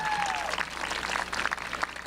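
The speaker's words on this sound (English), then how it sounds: "Let's give them a round of applause, please." Applause from the audience at a 2022 high school commencement ceremony, a brief burst of steady clapping heard from a distance at moderate volume.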